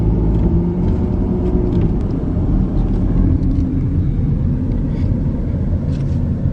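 A car drives slowly through a run-down neighborhood in Paris, Texas, producing a steady low rumble of engine and tire noise with faint scattered clicks, close and continuous, with no voices.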